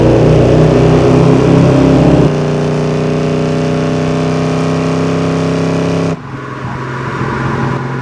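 A 1973 Dodge Charger Rallye with a Hughes Performance 727 transmission pulls hard under acceleration, its loud engine roar dropping through a gear change early on, then easing off abruptly near the end.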